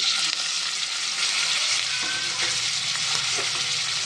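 Onions fry in four spoons of oil in a pan for a chicken fry, giving a loud, steady crackling sizzle with occasional stirring scrapes throughout.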